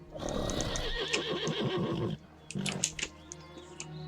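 A braying donkey call in World of Warcraft, several loud rising-and-falling whinnying bursts up close, followed by a shorter second call with hoof-like clops.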